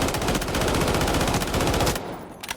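A SG552 assault rifle fires a sustained rapid burst in the Delta Force shooter, loud and close, with the shots stopping abruptly near the end.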